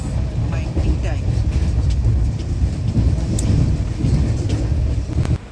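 Train rolling along the rails, heard from inside a carriage as a steady low rumble and rattle with wind noise throughout, close and fairly loud.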